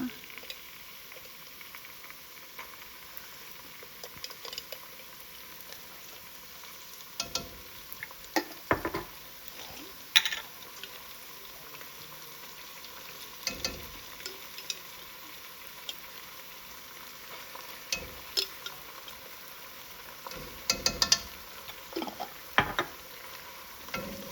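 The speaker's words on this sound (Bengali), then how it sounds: "গরম মশলা আর পেঁয়াজটা একসাথে একটু ভেজে ভেজে একটু ব্রাউন করব" Onion and garam masala fry gently in a pan, a faint low sizzle broken by scattered soft pops and spatters, quiet and close.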